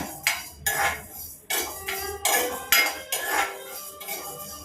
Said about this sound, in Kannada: ಕೊತ್ತಂಬರಿ ಕಾಳು ಸೊ ಇದನ್ನು ಅಷ್ಟೇ ಕ್ಲೀನಾಗಿ ಎಷ್ಟನ್ನು ಡ್ರೈ ರೋಸ್ಟ್ ಮಾಡ್ಕೊಳ್ಳೋಣ